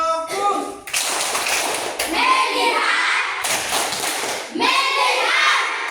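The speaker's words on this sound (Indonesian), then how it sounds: "kita tepuk fokus." Schoolchildren in a classroom perform a rhythmic focus clap, sharp bursts of hand claps and taps in patterned groups alternating with children chanting together.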